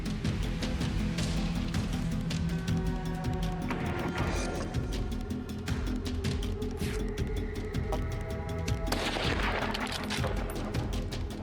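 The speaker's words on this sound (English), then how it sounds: "Raising the rifle, I fired quickly." Rifle gunfire during a wild boar hunt, with loud sharp shots cracking repeatedly over a dense, continuous background of noise and rumble, no voices present.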